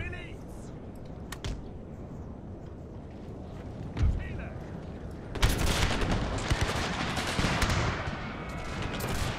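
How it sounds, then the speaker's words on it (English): Musket and cannon volleys fired at a mortar battery on a Thirty Years' War battlefield in Total War, starting as scattered sharp cracks, then swelling about halfway through into a dense, continuous fusillade over steady background battle noise. "they started firing at the mortar"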